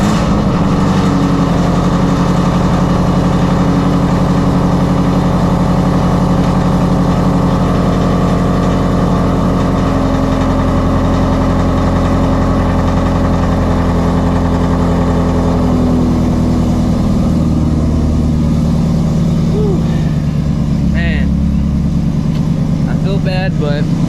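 Ford Shelby GT350 running on E85 during a late-night drive, its loud, close V8 engine droning steadily and then shifting pitch in a revving surge, with brief talk over the engine noise.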